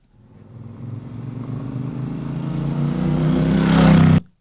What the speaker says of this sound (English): Now I'm just clicking through these different motorcycle sounds.